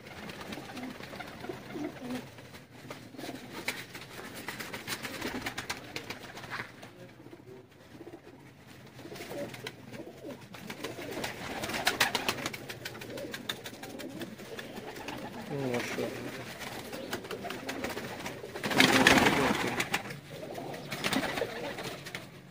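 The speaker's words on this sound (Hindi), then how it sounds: "गोल्डन कसूरी कबूतर है" A golden Kasuri pigeon coos in repeated low, throaty phrases amid quiet surroundings. The calls swell and fade across the span, with a louder burst near the end and faint background voices.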